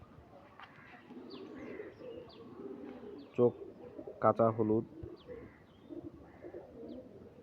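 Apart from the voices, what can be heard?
pigeon cooing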